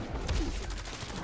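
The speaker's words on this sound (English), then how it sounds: "Look at the mythic Deathclaw taking all those bullets" Rapid gunfire pelting a mythic Deathclaw in Fallout 4, a quick burst of closely spaced shots, faint and somewhat distant, with no talk.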